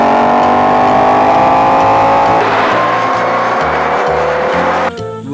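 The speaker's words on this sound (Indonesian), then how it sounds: "Ada mobil balap teman-teman." Toy race car from a set of toy vehicles, giving a steady buzzing motor whine with harmonic tones that shift and pulse, loud and close throughout, with a short clatter near the end.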